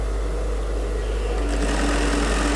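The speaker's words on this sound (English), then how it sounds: "Now sewing to the top point." A sewing machine runs continuously, loud and close, stitching a seam on a women's suit in one unbroken, whirring burst.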